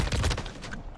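A quick volley of rapid shots from a gun in Call of Duty: Modern Warfare 3, a tight run of sharp cracks lasting under half a second that then fades, fairly loud and heard alone.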